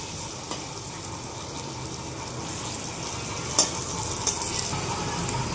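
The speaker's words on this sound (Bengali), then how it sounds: "আলু ভাজা হয়ে গেছে" Potatoes with salt and turmeric fry in oil, a constant close sizzling hiss with faint stirring and a couple of light clicks of a utensil.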